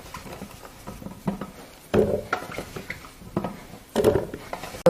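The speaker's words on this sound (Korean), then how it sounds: "대추 방울토마토를 가를게요." A knife cuts through jujube-shaped cherry tomatoes on a board, giving soft wet taps and a couple of sharper knocks against the wood, close and fairly quiet with gaps between cuts.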